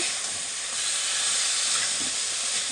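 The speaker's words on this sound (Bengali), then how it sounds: "এবার ম্যারিনেট করা চিকেনটা দিয়ে আমি একটু কষিয়ে নিচ্ছি" Marinated chicken for tehari sautés in a hot pan with a steady, hissing sizzle that stays even and continuous throughout, with no talk.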